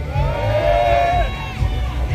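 Citizens at a cold weekday outdoor political rally of the Democratic Party calling for Yoon Suk-yeol's removal raise a loud, sustained crowd shout that fills the whole moment, with a few higher voices standing out over the massed roar.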